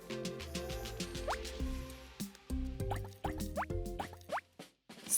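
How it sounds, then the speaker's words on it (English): Drops of food coloring fall into a bowl of oil, giving a series of small, close, irregular plops and drips with rising pitch glides, spread across a few seconds and heard alone. "add 4 or 5 drops of food coloring to the oil."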